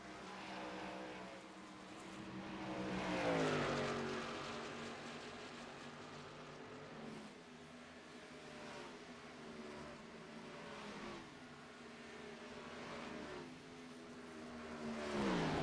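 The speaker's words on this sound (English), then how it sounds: "Close racing action here back through the tri-oval." Xfinity Series stock cars race closely through the tri-oval at Texas speedway, two Fords at the front; a continuous engine roar rises and falls in pitch as cars sweep past, with no talking.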